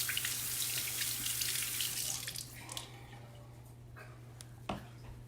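Warm water runs from a bathroom tap in a steady broad hiss that fills the first two seconds, then eases off into softer trickling and a few drips.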